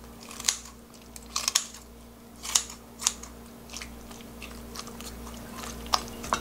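Kitchen scissors snipping a small quarter of aged kimchi straight into a pot, giving several sharp, crisp cuts spaced irregularly over a low steady background hum, close and fairly quiet.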